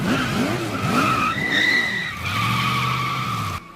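A cartoon car skids while doing donuts, loud looping tire squeals with a revving engine underneath, then a long sustained screech that cuts off abruptly at the end.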